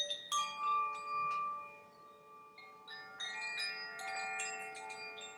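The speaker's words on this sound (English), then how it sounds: "Koshi chime." A Koshi chime played with gentle shaking, its bright tuned tones tinkling in loose, overlapping clusters with long ringing tails, close and fairly soft.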